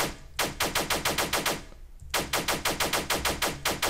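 Rapid-fire projectile shots in a Unity game, two long bursts of evenly spaced loud reports with a brief pause between them, no talking.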